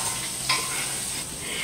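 Vegetables fry in a pan after tomatoes have softened, a steady close hiss of sizzling with a brief stir in the middle.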